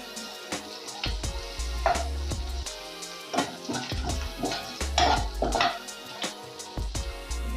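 Potato curry with kasuri methi is stirred in a hot pan, a spoon scraping and clacking against the metal in irregular strokes over a soft sizzle, close and fairly loud with no talking.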